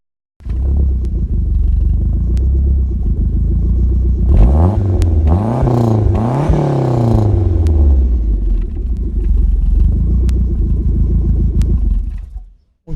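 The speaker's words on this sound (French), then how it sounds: "la sonorité de l'auto que je vais vous démarrer" A Lancia Delta Integrale Evo 1 HF engine starts and idles at a loud, close-up rumble. Midway it revs hard several times in quick rising and falling sweeps, then settles back to idle and cuts off.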